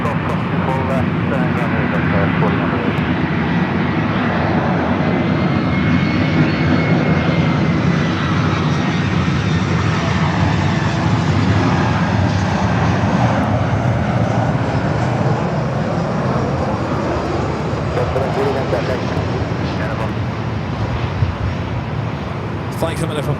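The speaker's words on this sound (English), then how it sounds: "Alright, we have an A319 that should follow." An Airbus A319 airliner at Los Angeles airport (LAX) roars steadily with a broad jet engine rumble that swells and slowly fades over about twenty seconds, loud and continuous, with voices talking underneath.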